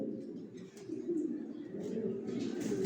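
Pigeons in a rooftop loft coo steadily in a soft, rolling chorus. Faint chirps sit above the low warbling, and no voices are heard.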